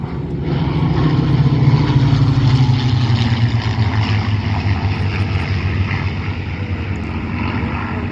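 Three P-51 Mustang propeller fighters at an airshow slow for landing, their piston engines giving a loud, throaty drone with a falling pitch that gradually softens as they pass.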